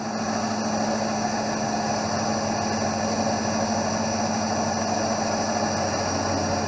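A lens drilling machine drilling a 1.4 mm hole in an eyeglass lens: a steady mechanical whine with a constant motor hum and droning tones, running continuously without pause or voices.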